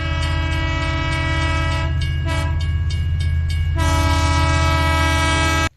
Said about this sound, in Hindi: वाह, ये तो एक लंबी ट्रेन है, 4 डिब्बा वाला, बहुत बढ़िया। चलो चलो इसको चलाते हैं अभी।